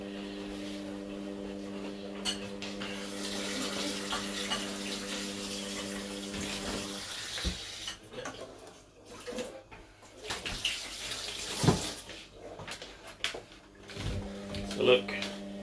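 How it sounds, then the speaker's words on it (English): Tap water runs into a mug holding pineapple skin with a steady pouring rush, followed by clinks and handling noises, while a person talks nearby. "And then you fill it up with good water,"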